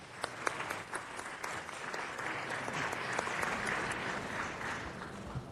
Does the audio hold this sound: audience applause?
yes